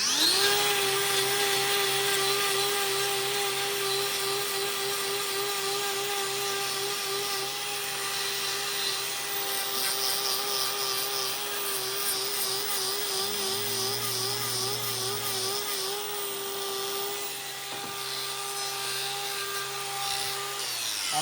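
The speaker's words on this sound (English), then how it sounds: "I'm literally just running the grinder over these front feet" An electric grinder trimming a bull's front hooves, making a continuous steady whine that holds at the same pitch, with a brief lower-pitched change in the middle.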